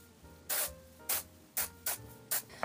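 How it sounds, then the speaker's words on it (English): Five short hissing bursts from a Moroccanoil Root Boost pump spray, misted onto thin hair at the front of the head, evenly spaced and close, with quiet gaps between them. "And then I'm spraying just at the front."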